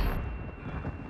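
A flash grenade detonates in Resident Evil 4 Remake as a loud, sustained broadband roar that starts immediately and rumbles steadily without a break before clipping at the end.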